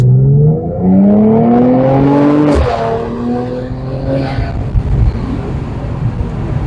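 A Mercedes-AMG C43 in Sport mode pulls hard, its engine revving loudly up through the range before a quick gearshift and renewed acceleration, heard close from the cabin.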